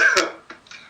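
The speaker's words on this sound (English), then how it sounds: "I should clear my throat first." A single close throat clearing, a rough rasping burst followed by two brief softer catches.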